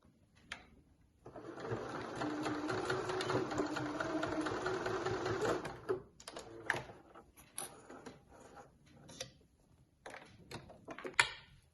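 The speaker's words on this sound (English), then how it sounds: "I'm just going to sew just as I did on the other side." A sewing machine stitches an elastic-and-fabric channel onto an eye mask lining in one close, steady run of about five seconds, followed by soft handling clicks and knocks.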